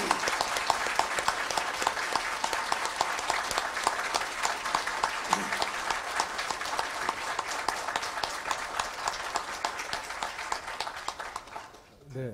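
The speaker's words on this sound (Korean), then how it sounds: "큰 박수 부탁드립니다" A large audience claps warmly for a retiring mathematics professor at a Korea University retirement ceremony, a long, dense roll of applause that holds steady before tapering and fading out near the end.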